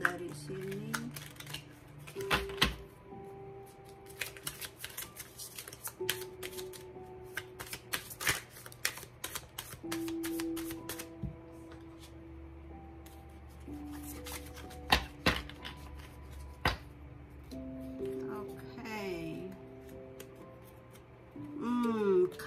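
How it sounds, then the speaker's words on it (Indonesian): Tarot cards being shuffled by hand during a romance reading, a run of crisp riffling and tapping bursts repeated through the stretch, close and fairly clear over a low steady background hum. "Ini saya kocok dulu kartunya dari The Romance ya."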